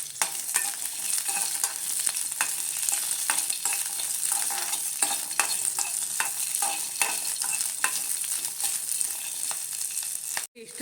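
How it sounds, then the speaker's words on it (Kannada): About eight green chillies fry in a little oil in a pan, with a steady close sizzle and frequent scraping stir strokes throughout, ending in a sharp clank. "ಒಂದು 8 ಹಸಿಮೆಣಸಿನ್ಕಾಯಿನ ಫ್ರೈ ಮಾಡ್ಕೊಬೇಕು."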